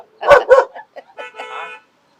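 A dog gives two loud, close barks, then a shorter, softer yelp and a whining cry, with no talk over them.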